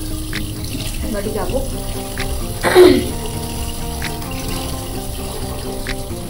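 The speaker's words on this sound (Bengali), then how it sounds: "দাঁড়াও মামা একটু হাতটা ধুয়ে নিই" Hands are washed under a running tap at a sink, with a steady stream of water splashing into the basin and a brief louder gush midway, while a person speaks briefly nearby.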